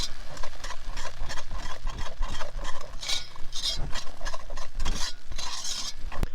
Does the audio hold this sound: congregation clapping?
no